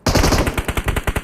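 Rapid automatic gunfire in the mobile battle royale game PUBG Mobile, a loud, close burst of about a dozen evenly spaced shots in just over a second, with no talking.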